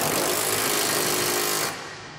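A power tool tightens the center bolts on the front crossmember of a B and W Companion 5th wheel hitch underbed kit, giving a steady, loud buzzing rattle that cuts off near the end.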